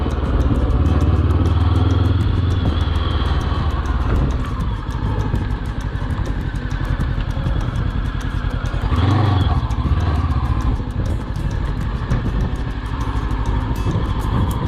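Morbidelli T502X motorcycle engine dropping through a smooth downshift, a loud, steady close-up drone with a brief dip and recovery partway through, no talking.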